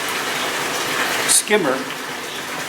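Water rushes steadily into a homemade fish tank filter, a continuous broadband gush close by, with a person speaking briefly over it midway.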